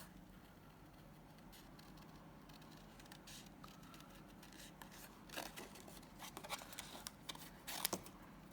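Scissors fussy cutting around a stamped sentiment on plain white cardstock, quiet close snipping and rustling paper that grows into a few sharper cuts toward the end.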